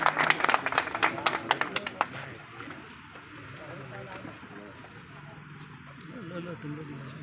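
A crowd at a reception gathering of All India Sunni Jamiat ul Islam gives a short burst of loud clapping for about two seconds, then it fades into a speaker talking over a faint murmur.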